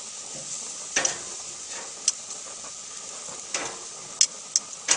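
Meat on an outdoor grill in March sizzles with a steady, bright hiss while it is turned, broken by a few sharp clicks and taps of tongs against the grate.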